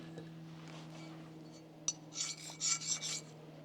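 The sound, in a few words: knife being sharpened on a stone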